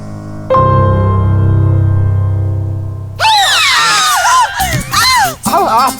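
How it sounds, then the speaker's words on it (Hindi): Several people shout and scream together in a household scene from a Hindi TV drama, a burst of overlapping loud cries that follows a few seconds of a steady low droning tone. "तुम क्यों चिल्ला रहे हो?"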